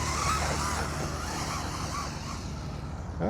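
DEERC 1205 RC short course truck cornering on an off-road track, a continuous close whine of the electric motor with tire scrabbling and some rising and falling pitch as it turns.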